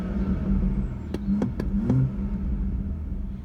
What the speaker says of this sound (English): The very last thing I wanted to show you is the exhaust system on this car.